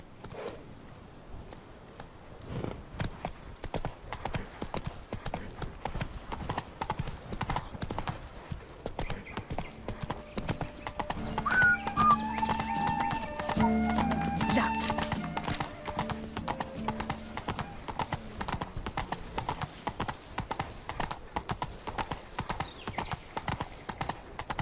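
Roach, the horse in The Witcher 3, gallops with a fast, continuous clip-clop of hooves, close and prominent. Brief sounds of a rider's movements and a whinny-like tone rise midway, with quiet music beneath.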